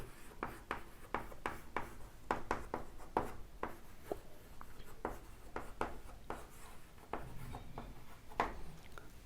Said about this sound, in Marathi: इकडे लिहितो सोयीसाठी